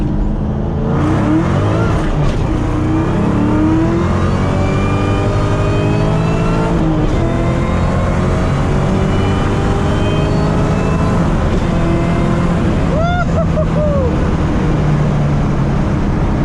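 Loud, sustained engine roar of a 2003–2004 car with an upgraded crossmember mount accelerating hard through first, second and third gear, the pitch climbing and dropping at each shift over steady road noise.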